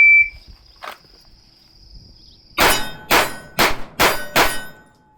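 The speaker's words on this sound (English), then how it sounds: "we'll just try 5 rounds on the steel" Five rapid shots from a Springfield Hellcat Pro Comp pistol ring out as loud metallic clangs on steel targets at a range, preceded by a steady electronic timer tone and a brief tick.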